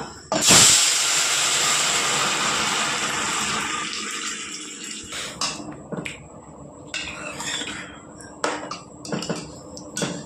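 Lentils tipped into a hot tempering of oil and chilli for papaya masoor dal, bursting into a loud, sharp sizzle and hiss that slowly settles into steady spattering with a few clinks of a spoon against the pan.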